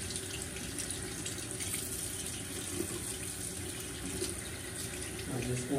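A bathroom tap runs steadily into a sink while someone washes their face. The water sounds close and constant, with faint voices and a brief splash near the end.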